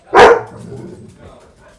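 A dog gives one loud, close bark that rings out and decays, with faint background noise after it.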